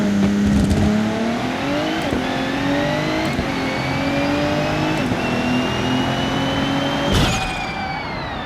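A BMW E30 fitted with an RB26 engine and converted to four-wheel drive accelerates hard in BeamNG Drive, its loud engine note climbing steadily through the gears with brief shift breaks and no voices.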